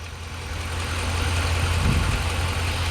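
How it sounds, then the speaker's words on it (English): A car's AC compressor runs with a steady low mechanical hum and drone, close and constant, rising slightly partway through, with no talking over it. "my compressor's on"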